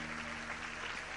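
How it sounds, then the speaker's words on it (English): A congregation at a worship service claps hands together, a dense, even wash of applause that holds steady and fairly quiet through the brief moment, with no voices standing out. "Let us clap our hands, my brothers and sisters."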